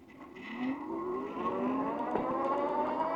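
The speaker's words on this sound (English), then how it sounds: "Now let's see if I can give you a 0 to 30 with just the rear motor" An electric bike's rear hub motor whines upward in pitch as it accelerates from a standstill toward 30, rising tones climbing smoothly over a few seconds under light wind and road noise, with no speech.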